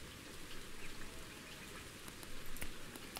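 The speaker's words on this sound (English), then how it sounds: "Now I can do this and listen to the pitter patter of raindrops." Rain falls in the fishing video game Ultimate Fishing Simulator, a faint, steady patter of raindrops with scattered sharper drips, continuous and without voices.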